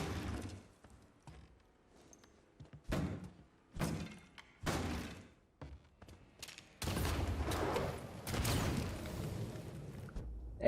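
Gunfire and explosions in the video game Mafia 3: Definitive Edition: several loud separate booming shots, then a sustained roaring burst of fire and blasts, with no talking.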